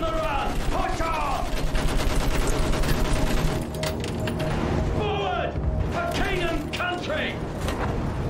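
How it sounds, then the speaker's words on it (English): Machine gun fire in a First World War film battle scene, loud continuous rattling bursts with booms and mechanical clatter, shouted voices mixed in throughout. "Use that machine gun! Mow them down!"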